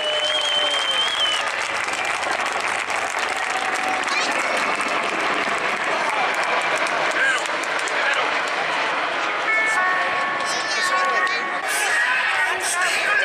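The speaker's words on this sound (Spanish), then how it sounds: "con una calurosa ovación" A crowd at an air show breaks into loud, sustained applause and cheering, a dense wash of clapping that continues throughout with voices mixed in.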